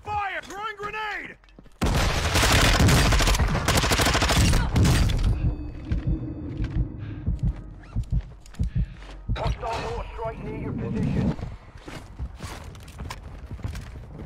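A video game firefight produces loud, rapid bursts of gunfire and heavy impacts in dense clusters, with players talking over the shooting.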